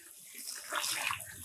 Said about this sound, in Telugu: 6 శరవలు నీళ్లు పోసుకోవాలా